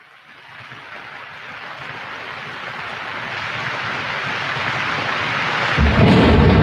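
Rain and thunder play back from a recording. A hiss of rainfall slowly grows louder and a deep rumble of thunder breaks in heavily near the end, with no voices.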